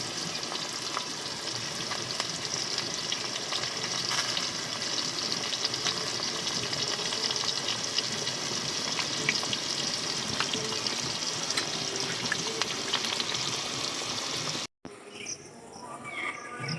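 Potatoes fry in a pan at home, a continuous close sizzle and crackle holding steady for most of the stretch before cutting off abruptly near the end.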